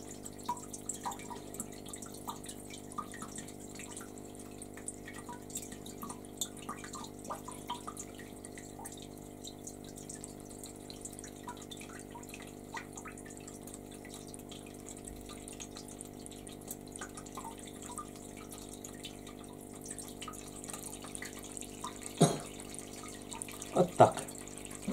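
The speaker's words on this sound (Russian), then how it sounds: "Льем на ладонь так, чтобы стекала вода по стеночке." Water being poured by hand into a newly planted aquarium, running down the glass wall, with a faint steady trickle and scattered small splashes and drips under a low hum, growing a little louder near the end.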